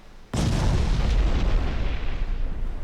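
A warship's guns fire in a naval warfare game set in an Imperial Austrian campaign: one sudden, loud boom that rolls on as a heavy, sustained rumble.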